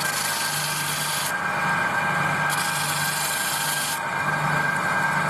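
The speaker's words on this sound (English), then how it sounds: "go down here on the linisher again, and we've got to sand it into a tip again" A linisher belt sander grinds a piece of wood down to a tip, a steady raspy abrasive whir with the scraping sound shifting in short passes as the wood is pressed against the belt, no talking.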